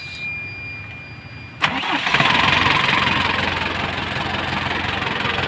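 A struggling car engine with delayed RPM response cranks and catches after a short quiet stretch, then settles into a steady, loud idle that holds to the end.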